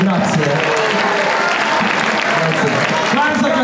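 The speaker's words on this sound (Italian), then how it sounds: "fatemi un applauso, grazie." An audience at a live blues concert applauds at the close of a band's set, with dense, lively clapping heard close over a speaking voice.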